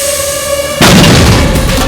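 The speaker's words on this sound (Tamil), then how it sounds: "உங்க ஆத்துல பெருசா வெடி சத்தம் கேட்டது" A loud, sudden explosion or firecracker bang bursts in at once and sustains a dense, noisy roar for about a second, after a quieter tonal stretch of background, with no speech.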